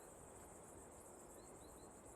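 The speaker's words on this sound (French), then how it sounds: "Les petites cigales et tout, c'est une dinguerie" Insect drone of cicadas in the ambient soundscape of the city-building game Town to City, a steady continuous high buzzing with faint chirps, heard alone without talk.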